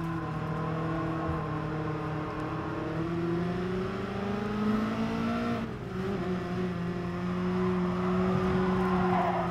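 BMW M3 Evo racing around Tsukuba in GT Sport, its engine note holding a steady, loud drone through a long fourth gear, dipping briefly mid-corner before climbing again, with no voices over it.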